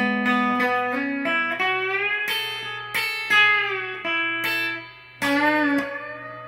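Someone playing an electric guitar lick from a song, with tapped notes: a run of distinct, slightly distorted picked and tapped notes with bends, rising and falling, played alone.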